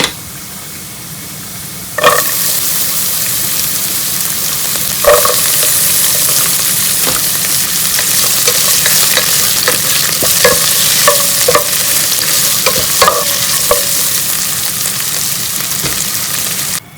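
Garlic sizzles steadily in a hot pan, with intermittent scraping and clinking of a utensil stirring, close up and with no talking.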